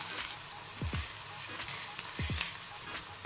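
Thinly sliced long onions dropped into hot oil for a puffed-rice snack, a steady close crackling sizzle with soft stirring scrapes, a couple of paired chirping squeaks rising above the hiss.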